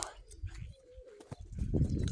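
Young pigeons coo softly in the background while a low rumbling, fluttering noise of wings beating swells toward the end as they fly nearby.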